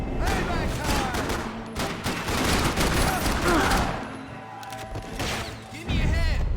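Rapid bursts of gunfire and automatic weapon fusillades from the video game Max Payne 3 crackle loudly and nearly continuously, with shouted character voices mixed in during a chaotic firefight.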